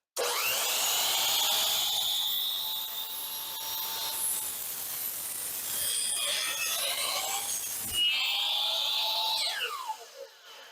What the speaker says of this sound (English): we're going to make our first cut with the miter saw